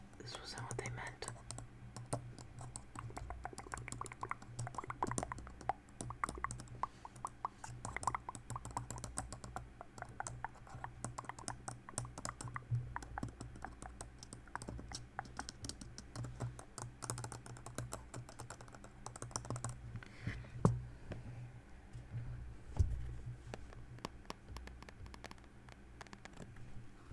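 Fingers type on a computer keyboard in soft, rapid, irregular clicks and patters that run continuously at close range, with quiet whispered talk now and then.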